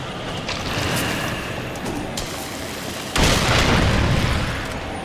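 Bomb explosion in the video game Darksiders 2: a rumbling, crackling background swells into a loud broadband blast partway through, followed by a sustained roaring decay.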